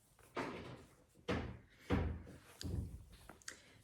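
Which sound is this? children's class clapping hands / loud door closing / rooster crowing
loud door closing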